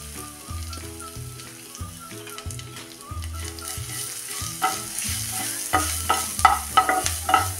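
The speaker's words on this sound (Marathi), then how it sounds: "लो फ्लेमवर हा मसाला चांगला भाजून घेऊया।" Coarse spice masala with asafoetida, coriander and cumin roasts on a low flame for crispy chilli vada, with a gentle sizzle broken by rhythmic scraping and stirring that grows busier toward the end.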